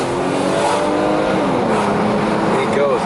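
A Mercedes-Benz W124 station wagon accelerates, its engine note rising steadily and loud throughout while someone talks over it.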